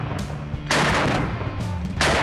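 An AK-50 rifle fired from the shoulder booms twice, each shot loud and close with a broad blast and a lingering rumbling tail outdoors.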